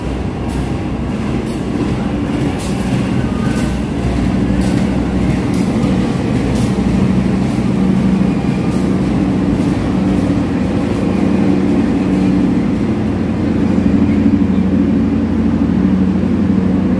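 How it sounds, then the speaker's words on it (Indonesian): A passenger train runs through Wonokromo station in Surabaya, Indonesia, with a continuous low rumble and rolling wheel noise that stays steady and fairly close throughout. "Kereta api yang saya naiki, Supas."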